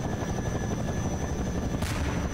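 A bomber aircraft in the video game Ravenfield drones steadily with a loud, continuous rotor-like engine roar, joined near the end by a short burst of noise.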